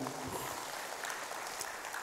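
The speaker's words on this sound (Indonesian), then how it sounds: "Beri tepuk tangan yang meriah" A church congregation applauds warmly during an online worship service, a steady dense wash of many clapping hands at moderate loudness, with a voice faintly beneath it.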